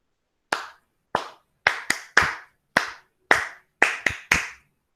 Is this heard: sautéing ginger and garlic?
no